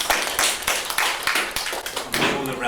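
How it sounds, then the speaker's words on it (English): Scattered audience applause after a lecture introduction, with sharp irregular claps from a modest crowd, fairly close and alone, tapering slightly toward the end. "All the round of applause is basically just for turning up"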